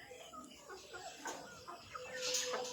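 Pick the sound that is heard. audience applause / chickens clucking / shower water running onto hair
chickens clucking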